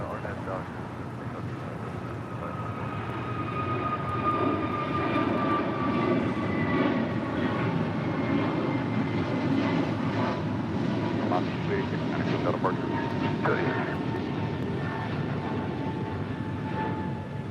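A jet airliner on its takeoff roll from runway 25 right at LAX, a steady loud engine roar with rising whine tones building over several seconds, heard continuously from nearby.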